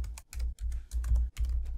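Rapid clacking on a computer keyboard as code is typed into a browser console, five quick close bursts of keystrokes separated by brief pauses, with no voice over it.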